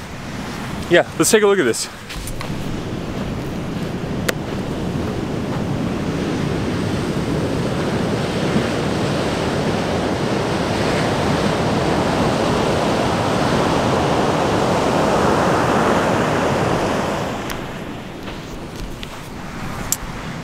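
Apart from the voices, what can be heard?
big ocean waves on a beach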